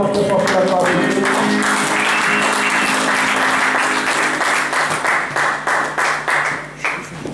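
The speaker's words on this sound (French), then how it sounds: "Acclamons très fort pour la gloire de Dieu" A church congregation applauds loudly and steadily, dense clapping filling the space with voices mixed in, then thinning and fading toward the end.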